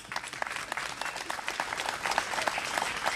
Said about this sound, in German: einen Beifall für die beiden, bitte.